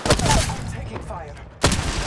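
Video game gunfire from The Old Ways event rings out loud and close, a heavy burst at the start and another sharp volley near the end, separated by a quieter stretch.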